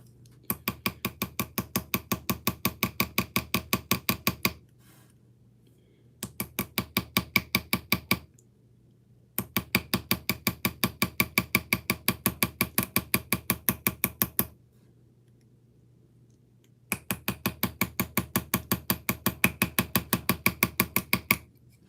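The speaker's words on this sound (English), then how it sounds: "what I'm doing is using this small little chisel" Rapid metallic tapping of a small hand chisel engraving a steel knife blade, coming in four steady bursts of quick, even strikes separated by short pauses, close and fairly loud over a faint low hum.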